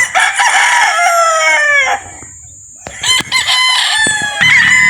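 A Sanglis Kalin White gamefowl battle stag at a game farm in Batangas crows loudly and close, one long cock-a-doodle-doo followed by shorter clucks and a second crow, with no talk over it.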